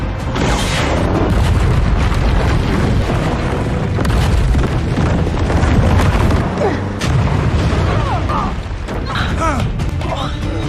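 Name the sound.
explosion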